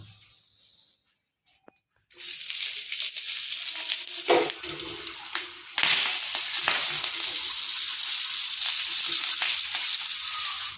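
Fish wrapped in banana leaf roasts on a hot griddle stone: after a near-silent start, a loud, continuous frying sizzle begins abruptly and swells further partway through.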